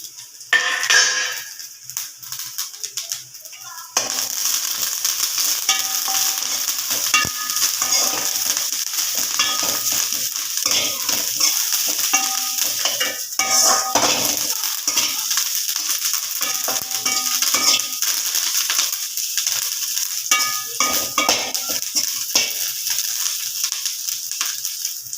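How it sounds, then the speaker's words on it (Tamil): Pirandai (adamant creeper) with curry leaves frying in oil, a close, continuous sizzle under repeated stirring and scraping of a utensil against the pan, with occasional metallic clinks. "நல்லா இந்த பிரண்டை நல்லா வறுபட்டுருச்சு எண்ணெயில்."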